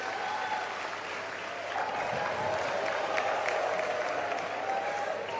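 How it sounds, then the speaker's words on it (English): An audience applauds at a live show: dense, steady clapping that fills the whole stretch, moderately distant, with crowd murmur and a faint voice underneath. "Put your hands together."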